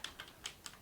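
Quiet typing on a computer keyboard: four separate light key clicks spread unevenly across a brief moment, heard alone with no talking.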